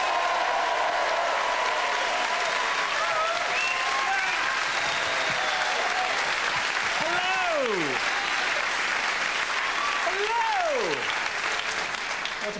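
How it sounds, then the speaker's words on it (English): Audience applause welcoming comedian Chris Addison onstage at an Edinburgh comedy show: steady, dense clapping from a large crowd that holds for the whole stretch, with a few whoops and cheers rising above it. "Build up your applause"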